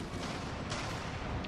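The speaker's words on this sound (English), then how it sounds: "the howitzers are mostly interested in firing back on the enemy cannons" Howitzers firing in a strategy war game, heard as a dense, continuous rumble of distant artillery booms blending into one another, fairly faint and steady.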